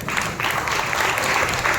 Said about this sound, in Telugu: బిగ్గరగా చప్పట్లు కొట్టి ప్రభువును మహిమపరచండి.